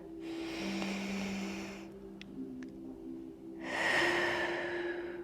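Deep breaths are taken during a Pilates exercise, a long breathy inhale followed by a pause and then a strong, airy exhale, heard close and clear.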